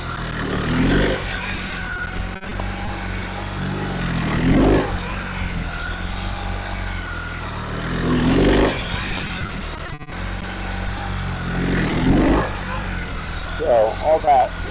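Low engine hum of a 2026 BMW R 1300 RT-P police motorcycle ridden at slow practice speed, with gentle swells of throttle every few seconds and a rider's voice talking over it throughout.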